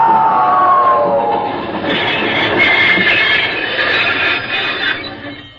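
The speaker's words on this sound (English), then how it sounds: "Would that be a locomotive you're driving?" A steam locomotive rumbles past as a radio drama sound effect, loud and close, with a steady chugging roar and a rising wheel squeal that fades slightly toward the end.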